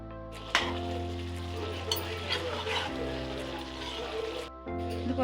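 Chicken curry gravy with garam masala and chili powder being stirred in a pot, a soft bubbling sizzle with occasional spoon clinks against the metal, fairly quiet and close.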